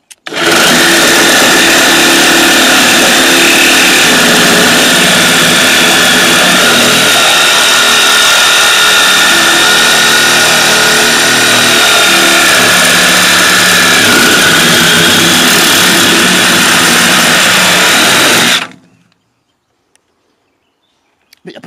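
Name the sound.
Parkside PSSAP 2028 reciprocating saw cutting with Hilti blade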